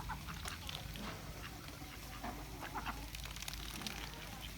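Ducks kept for sale quack faintly at a distance, scattered calls over a constant hiss of outdoor noise.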